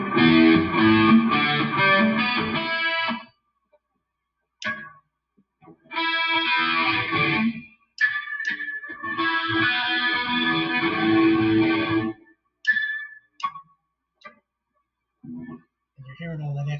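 Bursts of heavily distorted electric guitar from a Leo Jaymz Tele kit build, loud and close, played in several chunky phrases separated by short pauses and a few sharp pops.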